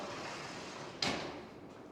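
A sliding mirrored closet door in a rental home's walk-in closet rolls along its track with a brief whoosh and soft bump over a steady room hiss, close and alone.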